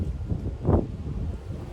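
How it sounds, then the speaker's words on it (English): Wind buffets a microphone in low, rumbling gusts, swelling briefly to a louder rush before settling back to a steady blustery roar. "Today it's windy"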